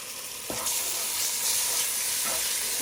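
Spices cooked with ginger-garlic paste and salt crackle in a hot pan, a steady close sizzle running throughout, with two soft scraping stirs of a spoon breaking through it.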